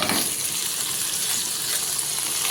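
Mutton keema frying in hot oil in a pan, giving a steady, close, even sizzle with no pauses and no talking.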